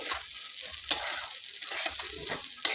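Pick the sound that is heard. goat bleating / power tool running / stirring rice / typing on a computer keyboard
stirring rice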